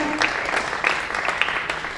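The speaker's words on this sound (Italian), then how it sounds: "E gli applausi sono per lei." Steady applause from a crowd at a Paralympic sports awards gala, dense overlapping claps filling the whole stretch at moderate loudness.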